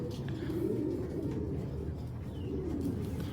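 Racer pigeons coo softly in a low, rolling murmur, with faint chirps and light background noise around them.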